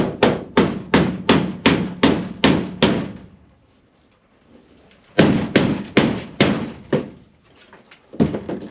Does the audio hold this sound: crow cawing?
no